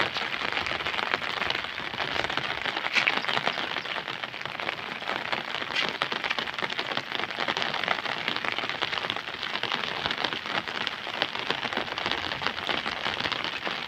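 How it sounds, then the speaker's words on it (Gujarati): Heavy downpour over the village of Methala, near a Shiva temple, a dense, steady hiss of rain pouring on surfaces, loud and unbroken throughout with no voices. "મધરો વરસાદ ચાલુ છે અત્યારે."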